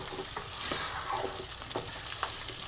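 Potatoes fry in a pan over high heat while being stirred, producing a close, steady sizzle with scraping and soft knocks from the stirring.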